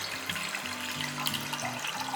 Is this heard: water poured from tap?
yes